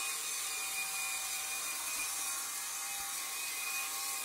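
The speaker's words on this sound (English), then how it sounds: "this will scrub it in and make sure it coats all the carpet fibers" A RYOBI 18V power scrubber works across carpet fibers, a continuous whirring motor drone with a faint tonal whine and brushy scrubbing texture, steady and close with no talk.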